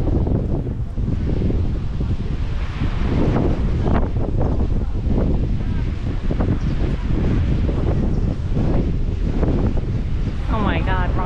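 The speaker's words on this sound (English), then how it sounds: "It was very windy today" Strong wind buffets the microphone on the basalt coast of the Giant's Causeway in Northern Ireland, a loud, continuous roar with gusty surges and possible surf underneath, steady throughout with no clear speech.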